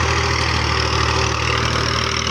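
A Massey Ferguson 240 tractor hauls a 9-tine cultivator through wet field soil, its engine droning loud, steady and close under heavy load, with no pauses or voices.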